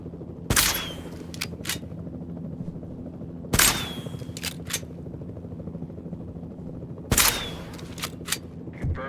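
Gunfire in the video game Jurassic World Evolution 2, with three sharp loud shots spaced a few seconds apart, each followed by a brief ringing tail, over a low steady in-game ambience.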